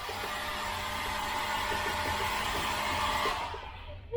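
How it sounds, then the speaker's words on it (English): A cabin hair dryer on a Carnival Vista cruise ship blows with a steady, loud whoosh and motor whine for several seconds before cutting off abruptly, leaving a brief click at the end. "And then in here is your hair dryer."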